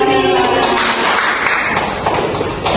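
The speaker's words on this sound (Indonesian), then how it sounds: "Beri tepuk tangan lagi." Classroom applause from students after a group presentation, a dense continuous patter of many hands clapping at close range for the whole stretch, with a few louder taps and a murmur of voices mixed in.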